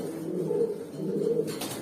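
A domestic pigeon coos nearby in two low, rolling phrases over a soft background hum, ending with a short rustle.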